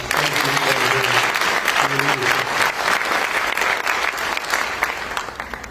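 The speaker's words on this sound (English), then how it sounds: "Could you give him a round of applause?" An audience at a Chicago anti-violence event led by the mayor applauds a city council chairman, a loud, sustained round of clapping with a brief spoken voice near the start, easing gradually over several seconds.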